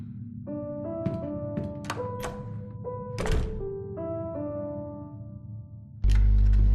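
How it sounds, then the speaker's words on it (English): A piano piece from track 4 of the Detention video game plays alone, with sustained notes and chords over a low drone, followed by a sudden loud burst of noise at the very end. "it plays this piano piece that I'll let you guys listen to"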